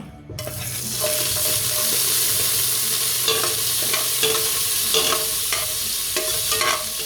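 Onions sizzling in a little oil in a pan for beef kaldereta, with a steady loud frying hiss and occasional stirring scrapes and clinks throughout.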